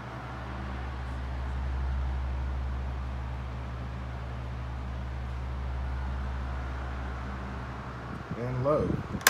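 A 1970s Sears oscillating desk fan with green blades running on medium hums steadily with a low, even drone. A voice starts briefly near the end.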